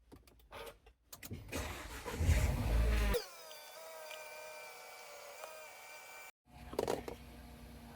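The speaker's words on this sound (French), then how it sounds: "fais chauffer le moteur de la voiture pendant 5 minutes" A Nissan Qashqai J11 starting up in a garage: some clicks and handling noises, a loud cranking burst, then the engine catching and settling into a steady idle that cuts off and resumes.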